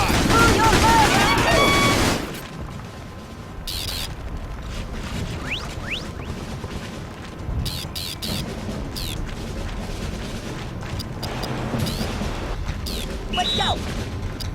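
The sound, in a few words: gunfire in a firefight, from the video game Battalion Wars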